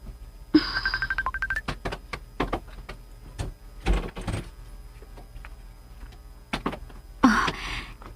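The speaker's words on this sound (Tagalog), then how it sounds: "Ang akong cellphone." A cellphone rings in a radio drama scene, a trilling electronic tone that starts abruptly and repeats for about a second, followed by scattered knocks and handling sounds, then a second short burst near the end.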